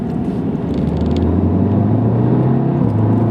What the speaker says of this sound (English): Let's shift into fifth, from fourth down to fourth, third,